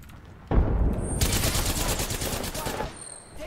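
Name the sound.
gunfire in video game Apex Legends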